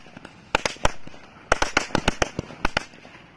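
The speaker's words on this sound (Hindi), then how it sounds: "हमारी छोटी लड़ी काफी अच्छी जली।" A small string of firecrackers bursts in a quick, ragged run of loud, sharp pops, several close together and then in short clusters, with faint background noise between them.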